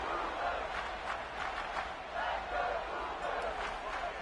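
Home stadium crowd in the College Football 27 video game, a continuous roar of cheering and shouting that swells and dips steadily throughout, fairly loud and distant-sounding.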